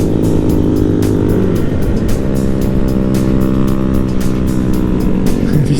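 A group of Honda Grom motorcycles riding together at an expo ride in Las Vegas, loud, continuous buzzing small-engine drone with layered revs close by, no speech heard.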